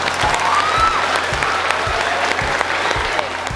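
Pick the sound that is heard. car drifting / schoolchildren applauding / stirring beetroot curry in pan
schoolchildren applauding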